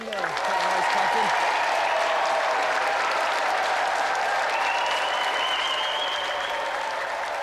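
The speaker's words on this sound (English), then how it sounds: "So let's have another round of applause for our gallant winner, Catherine Allen!" Sustained, enthusiastic studio audience applause for a game show winner fills the room, a dense wash of clapping with a voice briefly speaking over it at the start.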